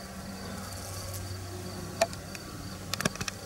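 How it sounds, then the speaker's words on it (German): Bees buzz faintly among flowering herbs in a garden, a soft steady hum broken by a few brief nearby insect passes. "Da sind die Bienen ganz fleißig."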